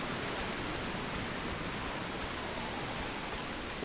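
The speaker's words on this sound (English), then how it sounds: "And you all really don't mind the rain" Steady rainfall in the Final Fantasy XIV game world, a dense continuous hiss of falling drops, even and unbroken, with no voices.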